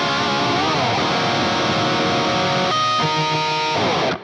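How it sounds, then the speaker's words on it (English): Axe Fx III guitar amp sound split into two cabinets panned hard left and right, giving a loud sustained distorted electric guitar chord that rings out and then changes to a new chord before fading. "It's the same amp sound, but essentially what's happening is that 1 amp is now going to 2 separate cabinets."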